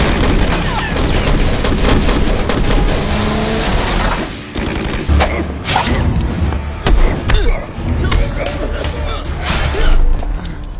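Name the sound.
gunfire in a film scene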